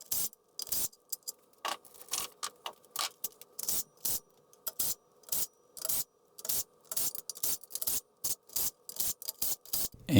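A hand ratchet works bolts loose from the block girdle and oil pan of a 2JZ engine, giving repeated short bursts of close, crisp clicking separated by brief pauses, quiet and without talk.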